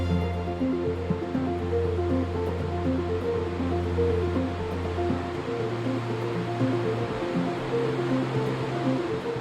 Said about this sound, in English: a waterfall with a constant roar that drops 145 meters into the canyon below